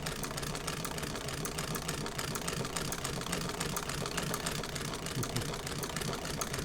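A Singer 12 fiddlebase treadle-style sewing machine stitching steadily with a continuous, even mechanical whir and fine rapid ticking, close and unbroken throughout.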